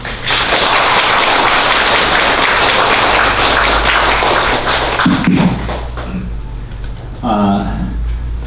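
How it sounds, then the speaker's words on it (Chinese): A lecture hall audience gives warm applause to welcome a minister, loud, dense clapping lasting about five seconds before fading into someone talking, with a few thuds of handling noise. "那我们现在用热烈的掌声来欢迎我们蔡部长"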